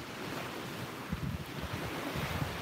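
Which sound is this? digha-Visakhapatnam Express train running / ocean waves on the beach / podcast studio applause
ocean waves on the beach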